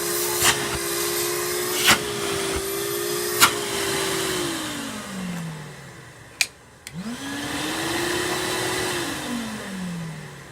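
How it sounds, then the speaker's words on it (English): Twin-motor industrial wet vac running, a loud steady whine that slowly drops in pitch as it powers down, then restarts with a rising whine that later falls again, with a few clicks and knocks between. "So let's just plug this one in like that. This one's twin motor as well."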